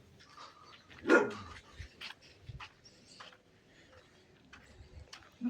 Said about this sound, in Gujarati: આપણો કૂતરો જેવો અહીંયા છે